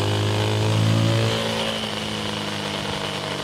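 A Rieju 307 Aventura Rally 2025 motorcycle is ridden along a winding road, its engine buzzing steadily close by, with a rising tone that drops back as the rider eases off.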